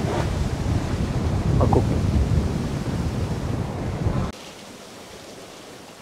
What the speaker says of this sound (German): Also jetzt haben wir scheinbaren Wind 17 Knoten.